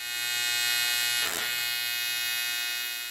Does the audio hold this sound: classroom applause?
no